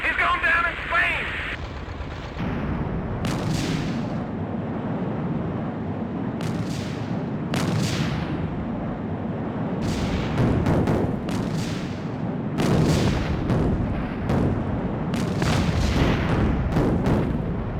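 Bombs dropping and exploding in the Strike Fighters 2 flight combat game, a continuous roar broken by repeated sharp blasts and booms at irregular intervals, loud and dense throughout.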